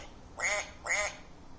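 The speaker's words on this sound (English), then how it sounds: "The duck waddles to and fro." Two quick, bright duck quacks from a children's farm-animal sound book, electronic and close, evenly spaced about half a second apart over a quiet background.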